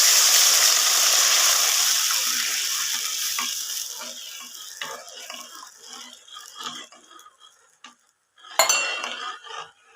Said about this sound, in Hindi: और जल्दी जल्दी चमचा हिलाना पड़ता है इससे